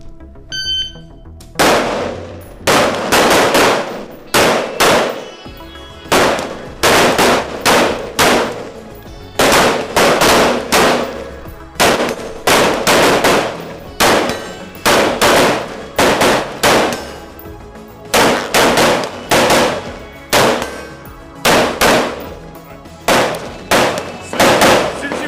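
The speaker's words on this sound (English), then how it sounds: "So boom, the shot goes off, goes up." Gunshots ring out during marksmanship drills, loud sharp reports fired in a steady rapid series with brief pauses between strings, each shot followed by a short ringing decay.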